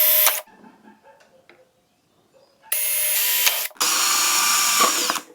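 A power drill bores holes in a plastic freezer drawer: a brief loud whir, a quiet pause with small handling clicks, then two sustained close drilling bursts separated by a short break.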